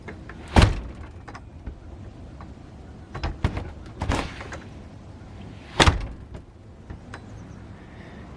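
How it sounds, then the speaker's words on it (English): Door closing over a newly installed under-door seal trim: several sharp thuds and knocks as the door is moved and shut, with one firm close standing out against a quiet room. "let's give the door a close and try it out."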